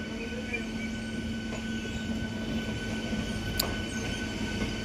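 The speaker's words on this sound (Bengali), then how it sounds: "এখন আবার ট্রেনের গতি কমে গেল" The Saraighat Superfast Express runs steadily on rails, a constant rumbling roar with a steady tonal hum and a brief high squeal partway through.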